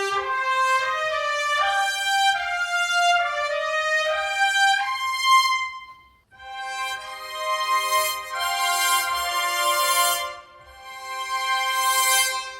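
Trumpets sustain long, bright harmonic notes, first in a stepping sequence of held tones, then after a short gap in fuller, louder chords that swell and fade, with no talking.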